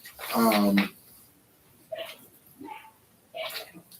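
A dog gives one loud bark at a goat in the backyard, followed by a few softer, higher yips and whines spaced apart in a quiet room.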